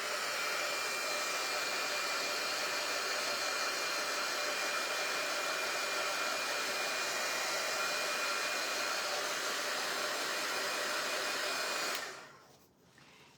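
A hair dryer blows steadily up close to dry a freshly painted craft project, a loud, even whooshing hum with a faint tonal whine that cuts off abruptly near the end, with no one talking.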